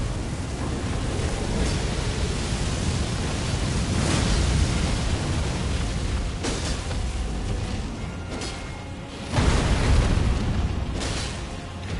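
A dragon breathing fire in Elden Ring, a long continuous roaring rush of flame that swells and surges, with a brief drop before a louder burst near the end, no voices.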